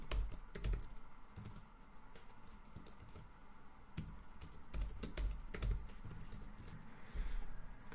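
Fingers type a root password on a computer keyboard while setting up an AWS cloud account: a close, steady patter of clacking keys with brief pauses and a few heavier strokes, no talking.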